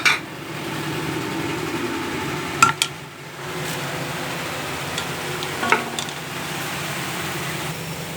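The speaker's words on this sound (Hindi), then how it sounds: "अब इसको चिकन डाल के ना इसको भून लेती हूँ।" Chicken frying in spiced oil with red chilli, turmeric and salt, a steady low sizzle with a few sharp clinks and scrapes of stirring, close by, with a faint background hum.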